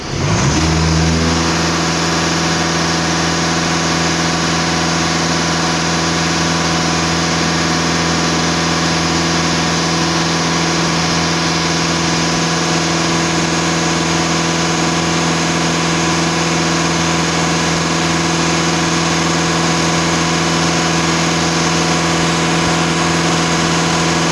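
A Volkswagen Passat B8 bi-turbo diesel engine, with a P20EE fault code and ash in the diesel particulate filter, settles after a brief rise into a steady, loud, droning idle that hums evenly throughout with no voices.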